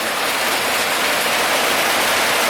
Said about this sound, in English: Never this year have I seen it rain this hard to fill a tank this fast.